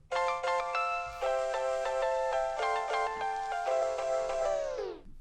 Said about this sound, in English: the first thing that came to us was this piano sample